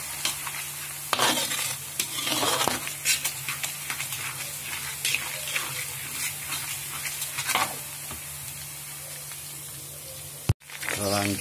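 Shallots and garlic frying in a pan while being stirred, a steady sizzle with repeated scraping strokes of the spoon, close and fairly loud, with a brief cutoff near the end.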